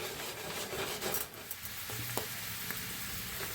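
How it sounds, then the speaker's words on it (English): Wild-foraged mushrooms sizzle and fry in a pan as their moisture cooks off, a soft, steady hiss with occasional faint stirring scrapes, quiet and without talk. "So we cook all the water out and then do the seasoning towards the end as the water's boiling out."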